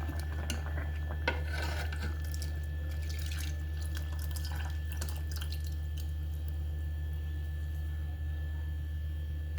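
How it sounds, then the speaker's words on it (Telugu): Thick buttermilk pours steadily into a pot with a continuous liquid splashing and trickle over a constant low hum, no voices. "ఇప్పుడు మనం మజ్జిగ పోసేసుకుందాం"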